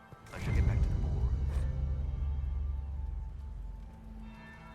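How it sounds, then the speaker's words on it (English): Bell ringing in the video game Dragon Age Inquisition: a loud struck tone followed by a second strike, each leaving a long resonant hum that slowly fades. "That's the bell."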